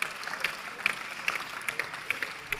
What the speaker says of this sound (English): let's have a round of applause again, please, for all of our winners and our Olympic champions